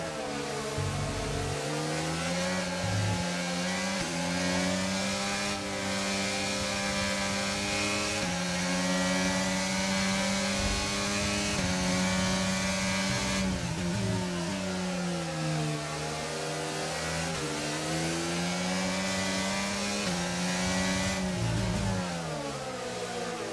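Formula 1 race cars in the F1 22 video game accelerate along the track, a loud, continuous engine whine rising and falling in pitch through gear changes, with several cars audible together.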